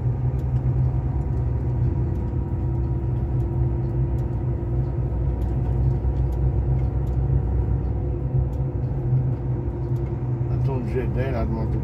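A car drives along the BR-116 highway in Brazil, its engine and road noise a steady, loud, continuous rumble throughout, with faint talk briefly near the end.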